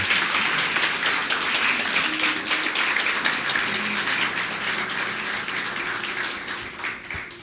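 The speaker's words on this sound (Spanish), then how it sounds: "No sé si puedes glorificar a Dios con un aplauso en esta mañana" A church congregation applauds during a Sunday morning service, a dense, sustained wash of many hands clapping that fades slightly toward the end.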